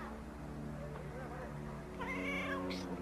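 A domestic cat meows several times indoors, a drawn-out whining call followed by higher, sharper meows near the end, close and clear over a low background hum.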